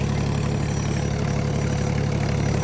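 A steady tractor engine idles continuously, a low rumbling drone with a regular mechanical throb and no voices.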